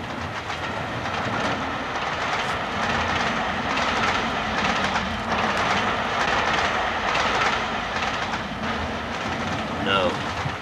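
Train running on tracks, a steady loud rumble and rattle of carriages throughout, with people talking over it.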